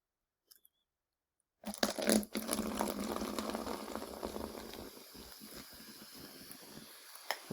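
Baking soda and vinegar fizz and bubble after the vinegar is poured in, a steady crackling hiss that starts abruptly and then gradually softens, close by with no talk.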